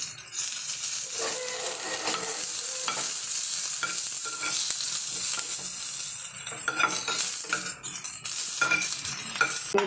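Curry leaves and dried chili crackle and sizzle in hot oil for tempering dosa batter, a loud continuous spitting hiss broken by stirring scrapes and utensil clinks close by.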